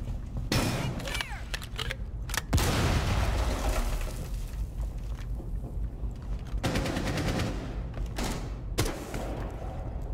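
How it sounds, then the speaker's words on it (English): Gunfire in Rainbow Six Siege, shots fired into a window: loud rapid bursts of automatic fire, repeated in several volleys with short pauses between them. "It's Justin shooting into the window."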